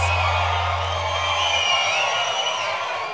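A concert crowd in a Guitar Hero game cheers and whoops loudly, a dense sustained roar that tapers slightly toward the end.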